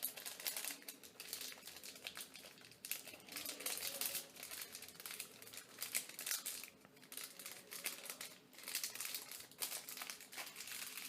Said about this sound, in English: fold everything to the side,